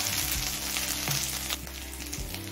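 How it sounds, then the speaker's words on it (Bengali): Ginger paste sautéing in a pan: a loud, continuous close-up sizzle with a few stirring scrapes over a steady low hum, and no one speaking. "এখন দিচ্ছি 1 চামচ আদা বাটা, আদার কাঁচা গন্ধ চলে যাওয়া পর্যন্ত কষিয়ে নিয়েছি।"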